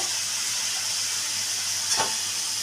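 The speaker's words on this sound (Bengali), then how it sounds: "দিয়ে ভালো করে কষিয়ে নিচ্ছি" Spice masala with chili and turmeric powder sautéing in a pan, a steady close sizzle throughout with one brief stirring scrape near the end.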